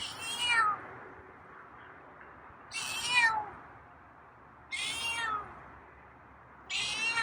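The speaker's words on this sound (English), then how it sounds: "Yeah, we got some meows today." A feral cat meows four times at spaced intervals, each call rising and falling, against faint outdoor background noise on a cold day.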